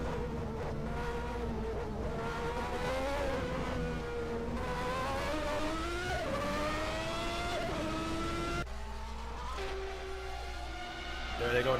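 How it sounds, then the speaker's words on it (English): Formula 1 cars at Monza during the 1991 Italian Grand Prix, engines howling with rising and falling pitch as they downshift for the chicanes, loud and continuous with a sharp change near the end. "Downshifting now for the first set of chicanes."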